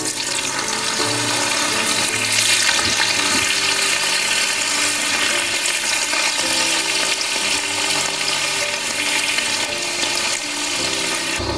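Paneer pieces frying in hot oil produce a loud, continuous hissing sizzle that holds steady without pause from start to finish.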